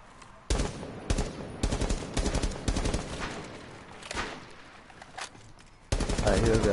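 Video game gunfire in Rainbow Six as a player shoots at a drone: loud, close bursts of rapid automatic shots in several strings, with short gaps between them.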